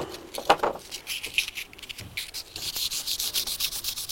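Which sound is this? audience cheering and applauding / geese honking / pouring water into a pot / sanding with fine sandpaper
sanding with fine sandpaper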